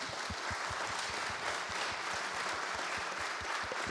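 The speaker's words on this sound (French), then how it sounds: "on peut les applaudir en effet" A conference audience at a round table on Mayotte and the French overseas territories applauds the panel guests, the claps fairly rhythmic and distinct, moderately loud and close, with no talking over them.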